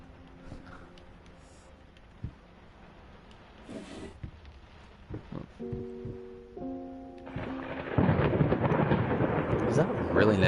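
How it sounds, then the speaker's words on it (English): A thunderstorm rumbles in the horror video game Layers of Fear, starting with faint distant rolls and scattered knocks, then swelling into a loud, sustained crash of thunder and rain near the end, with no talking. "Why does this need to be set in the middle of a thunderstorm?"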